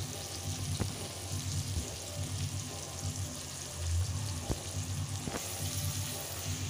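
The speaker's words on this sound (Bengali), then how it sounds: "তো টমেটো আর পেঁয়াজগুলো আমার ভালো করে ভাজা হচ্ছে" Tomatoes and onions fry in a pan with a steady, close sizzle, broken by a few sharp clicks of stirring against the cookware.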